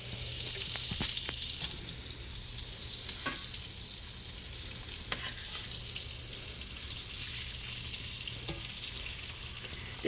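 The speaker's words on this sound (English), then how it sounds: "We're frying this in the grease" Meat frying in bacon grease on a stovetop, a steady quiet sizzle with occasional pops and spatters, close up and without talk.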